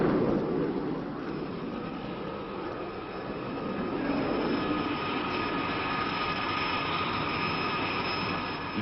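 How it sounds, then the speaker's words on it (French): Jet aircraft launched by catapult from the French aircraft carrier Clemenceau, a loud sustained engine roar with a steady broadband rush and a slight swell midway, with no voices. "Après le premier appontage, premier catapultage."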